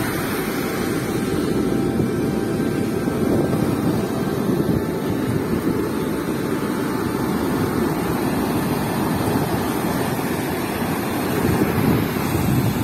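Ocean waves at Malpe beach in Udupi, a steady broad roar of surf mixed with heavy wind buffeting the microphone, continuous and unbroken with no voices.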